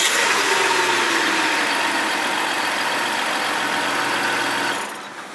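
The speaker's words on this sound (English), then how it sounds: "Start it up, 5 seconds." A Ford Territory engine idles steadily during a ZF6HP26 transmission fluid fill, a loud, close, even rumble with a whirring hum that holds for about five seconds before the engine cuts and the sound drops away at the end.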